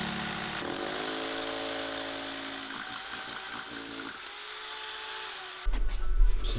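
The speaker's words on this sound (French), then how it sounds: "À l'aide d'une perceuse ou percusseuse équipée d'un foret." A power drill or hammer drill with a bit bores into a wall, a steady high whine for several seconds that wavers and fades near the end before a brief burst of louder low rumbling and knocking.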